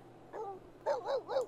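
A dog in The Sims 3 gives a short yip followed by a quick run of three barks, close and clear with no talking over it.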